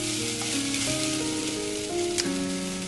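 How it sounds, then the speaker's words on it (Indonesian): Glutinous rice sushi filling stir-fried in a pan to half-done, a steady dense sizzle and frying crackle running continuously throughout, close and fairly loud with no talking. "ini sudah saya tumis setengah matang ya teman-teman"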